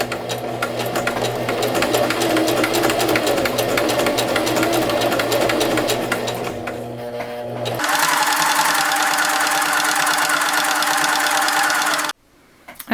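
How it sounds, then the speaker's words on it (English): A sewing machine stitches a dress seam at an even pace, a loud, continuous mechanical whir that briefly slows, then resumes at a higher pitch before stopping abruptly near the end. "Lower your needle, and we're gonna start sewing."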